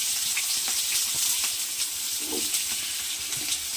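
Chopped onions sizzling in hot oil in a pan with cinnamon and green chillies for pulao, a constant crackling fry close up with occasional stirring scrapes.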